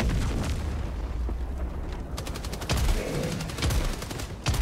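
Rapid bursts of gunfire and heavy booms from a Helldivers 2 firefight against a Charger, dense and loud throughout with a few sharp explosive cracks standing out near the end.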